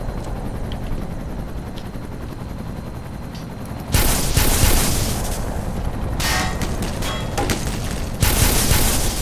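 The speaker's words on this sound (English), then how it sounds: "Three shots." Gunfire in the game Half-Life: Black Mesa, loud bursts of shots breaking out over a steady low rumble of machinery, with a second volley near the end.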